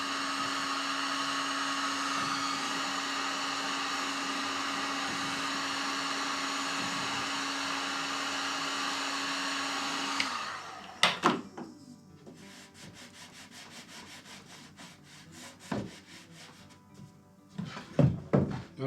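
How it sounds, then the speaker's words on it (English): A heat gun blows with a steady, loud whir for about ten seconds while building a printer stand, then shuts off. Scattered scraping and knocking follow, with a few sharp clatters near the end. "I've never done this with the heat gun before,"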